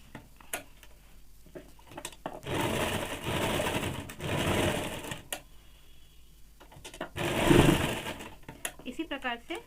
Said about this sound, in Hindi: इसी प्रकार से दूसरे कंधे का भी सिलाई कर लेंगे।